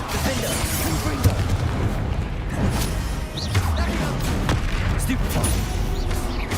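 Magic combat in Hogwarts Legacy, with a Confringo fire spell blasting amid crashing, shattering impacts and booms. The noise is loud and continuous, and voices are mixed in.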